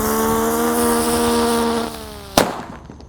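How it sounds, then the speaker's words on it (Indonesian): A spinning firecracker (mercon teratetor) whirls loudly with a steady high whine and buzzing harmonics, fading near the end, followed by a single sharp pop. "selanjutnya yang kita nyalakan ada mercon teratetor"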